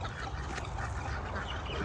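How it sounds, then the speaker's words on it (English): Farm ducks quack in a short burst at close range over a busy outdoor background, with no one talking. "There's some of the silly ducks."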